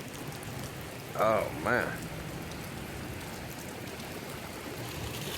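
Heavy rain pours down steadily outdoors in Houston, Texas, during bass fishing, a constant soft hiss of drops on surfaces, with a man briefly exclaiming partway through.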